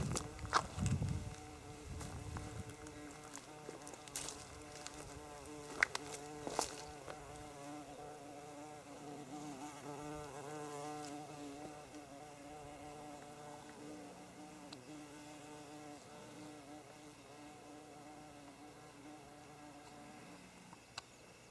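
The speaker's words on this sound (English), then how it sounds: "That's kumonbachi, a bumblebee." A bumblebee buzzing on a quiet hillside walk beside Japanese green tea terraces, a soft, wavering drone that drifts in and out faintly over a hushed outdoor background, with a few louder rustles near the start.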